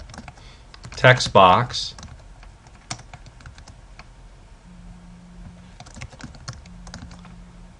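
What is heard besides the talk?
typing HTML code on a computer keyboard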